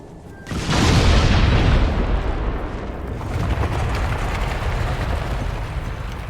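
An explosive charge detonates in a Qunari mining operation in Dragon Age Inquisition: one loud, close boom that lingers as a long rumbling roar of debris settling, with no talk over it.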